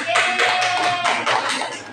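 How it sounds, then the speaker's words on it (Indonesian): A classroom of students claps their hands together, a short burst of distinct, fairly close claps in uneven rhythm with a faint voice underneath. "tepuk tangan dulu semuanya"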